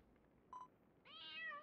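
A cat in Dragon Quest Builders 2 gives a short chirp followed by a longer, drawn-out meow, quiet and clear against near-silent game ambience.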